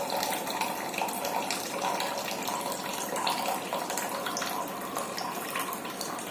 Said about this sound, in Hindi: पानी आना स्टार्ट हो चुका है